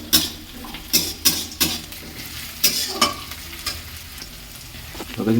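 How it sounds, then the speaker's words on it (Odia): Onions fry in a pan as crushed ginger and garlic go in and get stirred, a close steady sizzle punctuated by sharp metallic clinks and scrapes of a spoon against the pan, with no voices. "ପିଆଜ ହେଇ ଆସିଲାଣି ତାପରେ ପକେଇବା ତାର ଅଦା ରସୁଣ କୁଟି ରଖିଛି ପକେଇବା"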